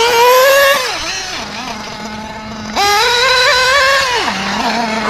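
A new ProTek RC Samurai .21 nitro engine, being broken in, screams loud and close at high RPM. Its pitch drops, holds low, then jumps back up as the throttle is blipped.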